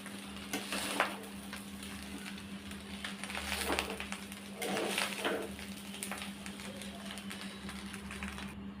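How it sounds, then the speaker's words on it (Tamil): Chicken fried rice with egg being stirred and mixed in a hot pan: soft irregular scraping and tossing with faint sizzling, under a steady low hum and occasional talk. "இப்போ இது எல்லாத்தையும் ஒன்றா கலந்து விட்டுறலாம்."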